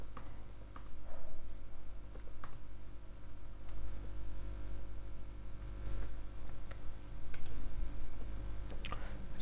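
Code is typed on a computer keyboard: light, scattered key clicks sound close against a low background hum, with no talking.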